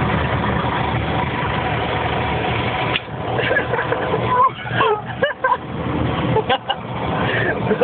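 A tractor engine idles with a steady low mechanical drone close by, while people talk intermittently over it.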